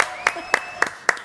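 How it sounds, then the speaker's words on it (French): Applause greeting Lola on a New Year's Day television show: four sharp, evenly spaced claps, close and loud, with a voice heard faintly underneath. "applaudissements pour Lola"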